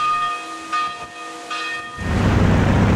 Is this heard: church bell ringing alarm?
yes